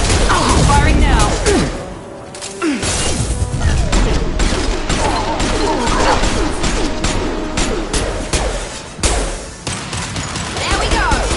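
Sci-fi combat gunfire in Mass Effect 2, loud, dense bursts of automatic fire and impacts that continue almost without pause, with a short lull near the start and another late on, with speech over the battle.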